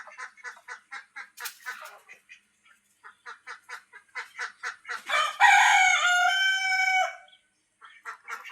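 A backyard rooster crows in a long, loud call near the end, preceded by a rhythmic series of clucks and chatter from penned poultry, with a duck-like quack among them.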